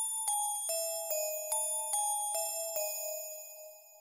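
A bright synthesized JP80 bell from Xenology plays a slow descending melody of about eight evenly spaced notes, each ringing out with shimmering overtones before the next strikes.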